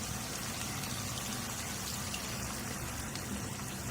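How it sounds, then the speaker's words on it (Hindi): A cup of water is poured into browned minced keema in a pan, giving a continuous, loud, hissing splash and sizzle close up, with no talk. "1 कप पानी डाल रही हूँ मैं।"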